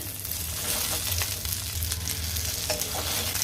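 Pieces of drumstick (moringa) frying in a pan with sautéed shallots and curry leaves give a steady, close sizzle with soft stirring clatter, continuous throughout and no voice over it.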